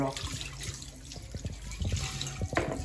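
Dishes washed at a sink under running water: a steady tap stream with splashes and light clinks of dishware, close by, with faint voices in the background.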